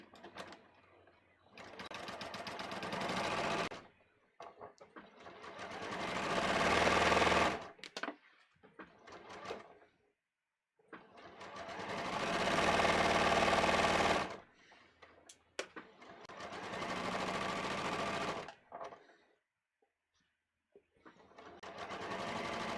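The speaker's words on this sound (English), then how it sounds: "Let's sew this other princess seam." A sewing machine stitches a princess seam on contoured pants in several close, loud bursts of rapid mechanical whirring, each lasting a few seconds and separated by short pauses.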